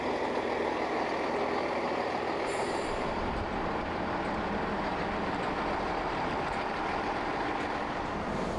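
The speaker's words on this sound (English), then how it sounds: "Speaking of trains, here's our train." A GWR passenger train arriving at a platform on London's Greenford branch rumbles steadily close by, a continuous low mechanical roar with a short high squeal of wheels early on.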